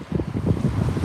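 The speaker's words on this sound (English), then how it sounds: "Got some major wind gusts going on here." Strong wind gusts buffet the microphone at a reservoir, a loud low rumbling roar that surges in uneven bursts.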